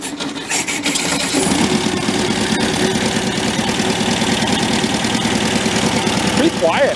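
A Volkswagen-engined tractor idles steadily close by, a low, even engine drone that holds for the whole stretch, with a brief mechanical rattle near the end.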